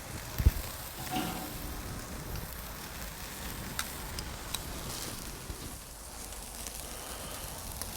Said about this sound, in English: I think I'm gonna do this other side another 30 seconds just to give it a little bit more searing.